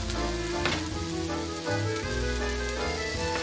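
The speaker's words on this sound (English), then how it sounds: "we're going to reheat this meatloaf up" Slices of meatloaf reheating on a grill give a steady, close sizzle that runs throughout, with music playing underneath.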